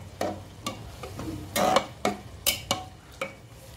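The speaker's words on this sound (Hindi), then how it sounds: "इसको अच्छी तरह से मिक्स कर देती हूँ।" A spoon scrapes and knocks through fresh green pea dal as garam masala is mixed in, a series of sharp, close taps and scrapes about every half second.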